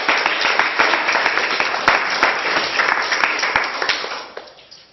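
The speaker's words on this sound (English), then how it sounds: "Please give a round of applause to Pete Driscoll." An audience at a poetry reading claps for the poet, dense crisp applause that holds steady and then thins and fades out toward the end.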